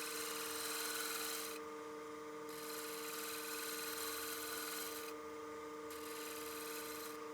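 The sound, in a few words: woodturning shear scrape on a partially seasoned bowl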